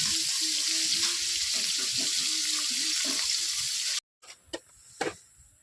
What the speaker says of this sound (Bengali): একে একে মাছগুলো আমি সুন্দর করে ভেজে নিই।